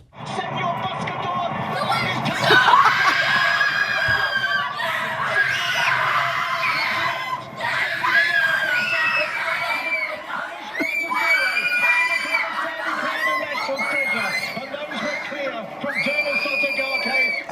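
A child screams in celebration of a horse race win, shrill whooping cries rising above an excited, cheering crowd, with voices shouting throughout and the screams repeating in bursts.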